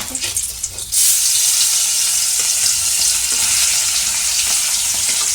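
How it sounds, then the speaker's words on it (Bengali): Fish frying in a pan in a home kitchen: after a brief quieter moment, a loud, dense sizzle bursts in and holds steady, close and continuous, with no talk. "আমি রান্না করছি মাছ ভাজছি আপাতত"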